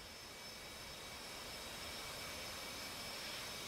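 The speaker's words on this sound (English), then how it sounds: "we're already in a fired up jet" A fighter jet engine in the DCS World flight simulator, already started on the ground, gives a steady broadband roar with a high whine, constant and unbroken throughout.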